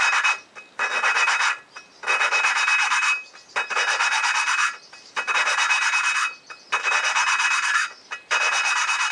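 Valves on a Suzuki TL1000 motorcycle engine being lapped with grinding compound, a close, loud rasping rub in about seven steady back-and-forth strokes separated by brief pauses, with no voices.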